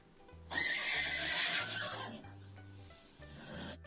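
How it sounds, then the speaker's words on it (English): A horse gives a loud, close, drawn-out whinny that shakes and fades, with a soft shuffling rasp and low tones underneath. "horse से"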